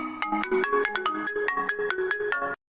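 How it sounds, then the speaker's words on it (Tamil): A mobile phone rings with an incoming call, a loud, close melodic ringtone of quick repeating electronic notes that plays on its own and then cuts off abruptly. "அம்மா உனக்கு ஃபோன் வருது."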